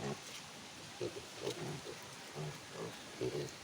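Small hungry piglets grunting at feeding time on a farm, a scatter of short soft grunts and squeals spread through the clip over a low background hiss, with people talking nearby.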